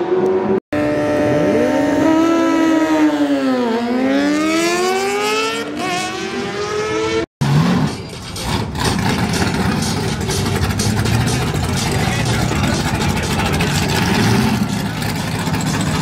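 Show car at Powerfest, a loud car event, revving hard with rising and falling engine pitch sweeps, cutting out briefly twice before settling into a loud, sustained roar with crowd noise.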